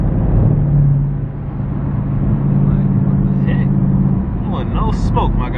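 Mopar car on a street at a car takeover, a loud near engine roar with a sustained rumbling rev that fades as it moves off, while someone talks over it.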